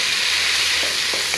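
Peas and carrots stirred in a frying pan while making pork-fried rice, a constant loud, close sizzle with a few soft utensil scrapes and no talk.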